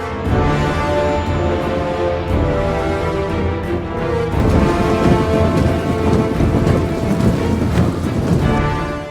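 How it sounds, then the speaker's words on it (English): Summer thunderstorm with heavy pouring rain over an open field, a steady loud downpour with rumbling thunder that swells and grows denser midway, constant and close with no voices. "a sudden summer storm broke out and rain began pouring over the field."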